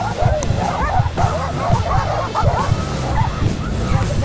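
Several aggressive dogs bark and yip in quick bursts, close and loud, while riders fend off an attack near the Moldovan border; a car is faintly audible beneath the barking.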